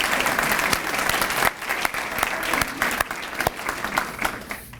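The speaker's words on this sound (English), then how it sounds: "Again, a round of applause for Martin's Barbecue." An awards ceremony audience claps steadily, loud and sustained at first, then thinning into scattered claps as it tails off, with no voices over it.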